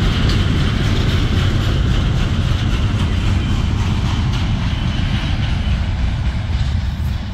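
A freight train on the D&H line passes close by with a heavy, continuous low rumble of locomotive engine and rolling wagons, loud and steady throughout; no clear air horn blast stands out, and no one talks.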